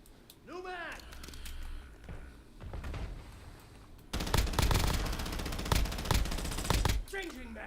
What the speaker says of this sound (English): Everyone's shooting me! Stop shooting me!